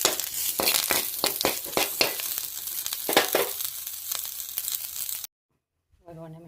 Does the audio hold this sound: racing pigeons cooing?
no